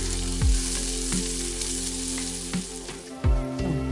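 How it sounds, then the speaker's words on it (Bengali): Spices frying with onions in a pan, a loud continuous sizzle with a few thudding stirs of a spoon against the pan, close up with no talking. "এবার মশলাগুলো পেঁয়াজের সাথে 1-2 মিনিটের জন্য কষিয়ে"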